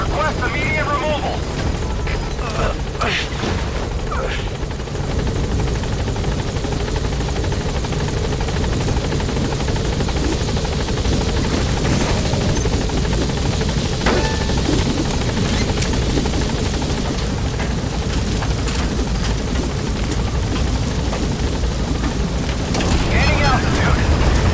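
A helicopter hovers over a blocked landing zone in the video game Metal Gear Solid V. Its rotors throb in a loud, continuous rumble for the whole stretch while radio chatter runs over it.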